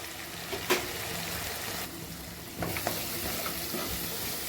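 Garlic paste, chilli powder and garam masala frying with onion, tomato and potato in a pan, a soft steady sizzle with a few scraping stirs of the spoon.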